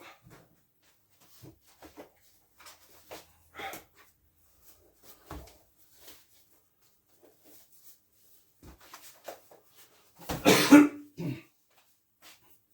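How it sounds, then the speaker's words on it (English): Mostly quiet room with scattered small clicks and shuffles, then a loud, close cough burst near the end, followed by a short throat clearing. "You'll have to forgive if I cough occasionally or a bit of sneezing"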